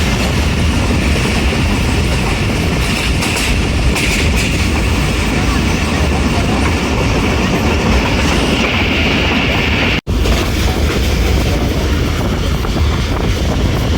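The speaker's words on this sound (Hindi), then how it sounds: "मंकियाला से पास थ्रू हो रही है 48 डाउन रहमान बाबा एक्सप्रेस" Steady, loud roar of the Rehman Baba Express passenger train running through a station on the line between Rawalpindi and Faisalabad, with continuous rumble, wheel noise and wind buffeting close to the microphone.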